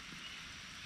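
Fine water spray misted like rain over plants in a cave setting, a steady close hiss lasting the whole moment with no talking.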